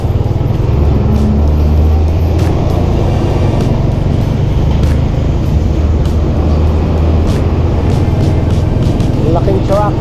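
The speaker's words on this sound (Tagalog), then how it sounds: "Ang laking truck." A big truck passing on a road, its loud low rumble steady and close throughout, with people talking over it.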